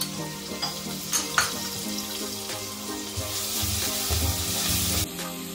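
Green chili paste sizzles steadily in hot oil with frying cumin, with occasional stirring scrapes and clinks over the quiet, continuous crackle.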